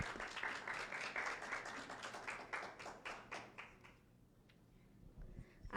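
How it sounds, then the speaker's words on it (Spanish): Applause from an audience at an award ceremony for an entrepreneurs' program, a dense run of many hands clapping close by that thins out and fades after about four seconds. "Entre todos les damos un fuerte aplauso"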